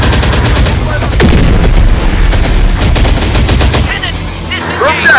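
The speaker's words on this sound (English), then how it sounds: "We're taking fire!" Loud, sustained automatic gunfire from a firefight in Terminator: Dark Fate – Defiance, with rapid bursts of shots running under the battle noise and a few sharper booms in between.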